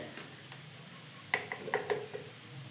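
Spice powders sizzling in coconut oil in a pan for a prawn roast, a faint steady fizz with a short run of soft crackles and clicks in the middle, no voices.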